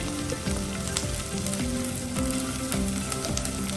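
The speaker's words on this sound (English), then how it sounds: "add the chopped onion. We'll add the chopped garlics. Stir for a while." Chopped onion and garlic fry in a pan for cream of mushroom soup, a loud continuous sizzle broken by stirring scrapes, with music playing in the background.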